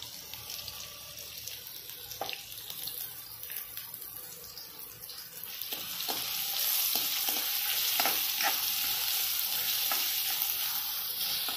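Chopped onions sizzle and crackle in hot oil while being stirred, a home-kitchen step in making chole bhature; a steady sizzle swells louder partway through, with soft scraping and clinks from the spatula.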